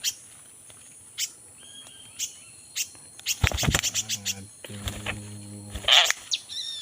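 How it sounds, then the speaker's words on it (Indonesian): A Pak Bandir bird calls in short, evenly spaced chirps against a faint insect drone, then gives a louder, denser run of warbling notes, with a person speaking briefly in between. "Burung Pak Bandir ini mas bro."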